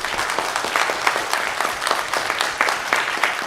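Audience applause for guest panelists at a journalism conference session, a moderate crowd clapping in an uneven, pulsing patter with individual claps standing out, steady for a few seconds.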